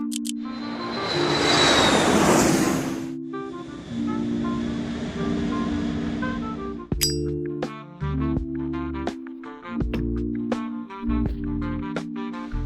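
Propellers on a toy jet-shaped car air freshener spin with a close, breathy whirring hiss for the first few seconds. A fainter airy wash follows, then steady tonal background music takes over.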